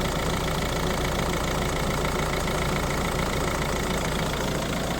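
A Ford / Peugeot 1.6 diesel engine idles steadily after an injector seal repair, with a continuous, even, close-up rumble and a light knocking rhythm that stays level for the whole stretch, with no one speaking.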